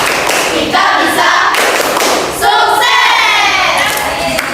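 A classroom of students claps and chants the Indonesian 'tepuk semangat' rhythmic cheer together, a loud, near group of voices shouting in unison over rapid hand claps.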